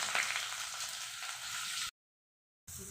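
Onion and green chili fry in a pan for mint rice, a steady close hiss of sizzling oil that cuts out abruptly for a moment before resuming.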